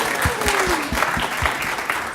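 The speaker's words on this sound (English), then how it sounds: "I would like to give a round of applause to all the parents whose kids are here today" An audience applauds parents at a live show. The clapping is a steady, close burst of many hands, loud and sustained for a couple of seconds.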